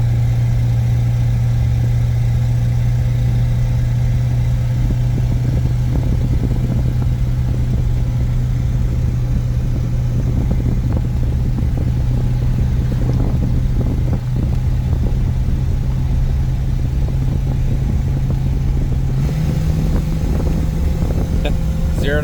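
A 1950 Buick Super engine runs with a leaking exhaust gasket, giving a steady low rumble with a ticking, puffing texture that continues close by for about twenty seconds, with people talking intermittently over it.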